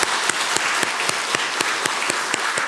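A church congregation at an afternoon worship service claps to encourage a missionary. Many hands join in a steady, loud wash of applause, with a few sharp individual claps standing out at a regular beat.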